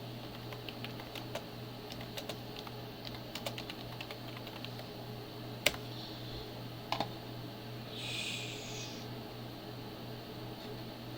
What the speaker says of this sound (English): I don't know why I'm typing that all caps.